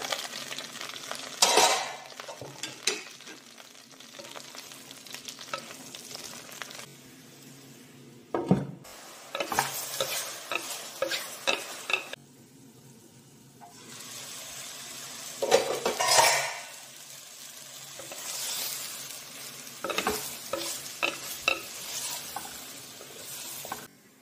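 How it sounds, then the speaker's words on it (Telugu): Sliced mushrooms frying lightly in oil in a pan for a curry, a soft steady sizzle broken by repeated scraping and clinking of a metal spoon stirring against the pan. "ఇప్పుడు మనం ఏవైతే కట్ చేసి పెట్టుకున్న మష్రూమ్ ఉందో అవన్నీ లైట్గా ఫ్రై చేయాలి."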